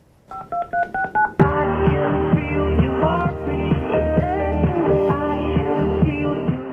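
A quick series of telephone keypad tones, about six beeps in a row, followed by a sudden burst of loud music.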